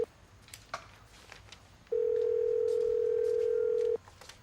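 A telephone in an office pantry gives a single steady electronic tone lasting about two seconds, loud and clear over faint background noise, with a few soft clicks before and after.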